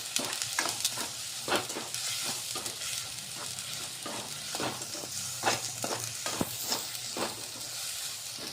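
Red chilli powder and salt mixture cooking in a pan, a continuous close sizzle with frequent sharp scraping strokes of a spoon against the pan at an irregular rhythm.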